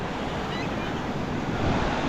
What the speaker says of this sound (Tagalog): medyo malakas pa rin ang hangin